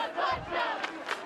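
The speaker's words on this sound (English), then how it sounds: "I like the enthusiasm from the West crowd" The Lakota West crowd at a high school football game roars in a brief swell of cheering and yelling, a blended mass of voices from the stands.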